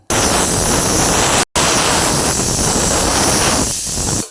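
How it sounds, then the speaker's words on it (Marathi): A loud, forceful hiss of escaping steam blasts almost continuously, broken by one brief gap, close and harsh like a pressure cooker whistle venting while cooking urad dal amti. "कुकरच्या शिट्ट्या झाल्यात"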